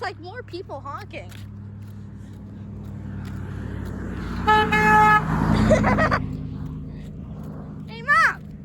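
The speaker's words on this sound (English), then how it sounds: "there's like more people honking." A passing car sounds its horn in one sustained honk of about a second, loud and close over steady road traffic, with someone speaking briefly before and after it.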